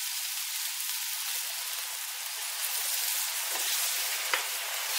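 Milk poured into a hot pan for a thick hake filling gives a steady, even sizzling hiss that carries through without pause and with no voices over it.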